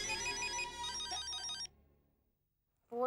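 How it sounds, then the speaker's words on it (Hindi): A telephone rings loudly in a sitcom scene set at night, a repeating electronic ringtone pattern for over a second and a half, then quiet, before a new sound starts at the end. "फोन बज रहा है।"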